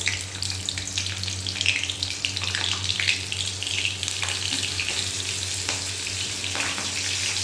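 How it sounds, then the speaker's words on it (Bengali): Green chillies spit and crackle in hot oil as they fry, a dense, steady sizzle with scattered sharp pops over a constant low background hum. "এবার তেলটা গরম হলে কাঁচা লঙ্কাগুলো ফাটিয়ে দেবো, এইরকমভাবে ফাটিয়ে দেবো"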